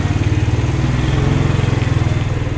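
Close, loud manual-transmission motorcycle engine revving and accelerating on a narrow road, a steady pulsing throb with a throaty low rumble throughout.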